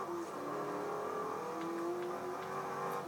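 A Hennessey car's engine climbs in pitch as it accelerates in Forza Horizon's Goliath race, a steady, loud revving tone that fills the clip on its own, with no one speaking.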